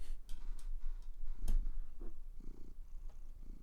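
A close, steady rumbling purr runs throughout with a soft rhythmic pulse, joined by a few light clicks and rustles nearby.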